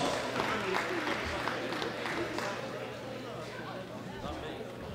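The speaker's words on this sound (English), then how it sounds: "Give her a round of applause." Audience applause and crowd noise fill a hall at a women's junior classic powerlifting world championship medal ceremony, a steady, moderately loud wash of clapping with an announcer's voice heard over it.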